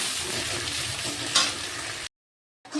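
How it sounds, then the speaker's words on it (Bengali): Chopped onion sizzles loudly in a pan of oil for a village-style chicken dish, a dense continuous frying hiss with a brief stirring scrape midway, then a sudden cut to silence before the sizzle returns. "এবার আমি কোচানো পেঁয়াজটা দিয়ে দিচ্ছি তো পেঁয়াজটা ভালোভাবে ভালো করে ভিজে নেবো"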